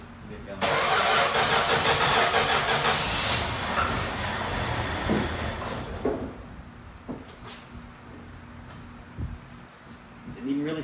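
A Mopar Slant 6 car engine cranks and catches, then runs loud and rough for several seconds before settling into a quieter idle with a few knocks, while a person talks over it.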